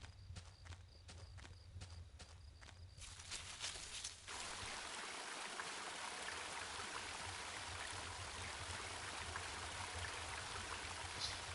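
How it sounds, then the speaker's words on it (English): Loud running water of a woodland stream, a broad continuous rushing wash that swells in after a few seconds of scattered crunchy steps, with no talk. "That running water's loud."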